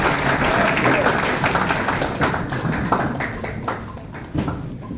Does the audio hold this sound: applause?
yes